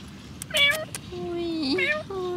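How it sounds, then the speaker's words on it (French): A cat meows repeatedly on a golf course in Dubai, several drawn-out close meows with rising and falling pitch, while people talk quietly nearby. "le chat l'attaque."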